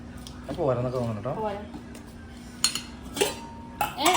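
A spoon mixes lemon juice into a homemade face pack in a bowl, giving a few sharp metallic clinks near the end after someone speaks briefly.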